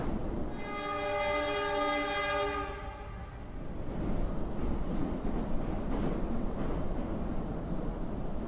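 A train horn sounds in the video game Yuppie Psycho, a sustained two-second blast fading into the rumbling roll of a moving train over rails, heard alone without talk.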